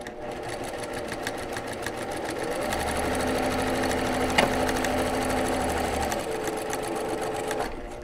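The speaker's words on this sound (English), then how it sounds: "I'm going to go ahead and top stitch each of the selvage sections" A sewing machine top stitches selvage sections on a quilt block, running in a steady close mechanical whir with a rapid needle rhythm that grows slightly louder midway and carries on without talking.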